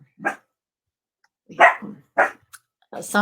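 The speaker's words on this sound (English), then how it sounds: "Someone must be walking on the street because the other dog is barking" A chihuahua barks in sharp, separate yaps, four or five of them spaced out irregularly over a few seconds, fairly close and loud against near silence.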